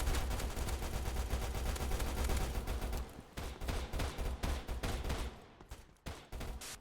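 Continuous rapid automatic gunfire from a friendly smart turret in the HazmobFPS shooter game, dense and sustained, then breaking into choppier bursts toward the end.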